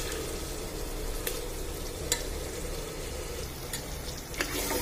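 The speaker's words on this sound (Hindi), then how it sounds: "अब मैं इसमें अदरक लहसुन का पेस्ट डालूंगी। दो मिनट के लिए भूनूंगी इसको" Ginger garlic paste sizzles and fries in a pan with onions for nihari, a steady close crackle with soft stirring scrapes and a few sharper pops, and no talking.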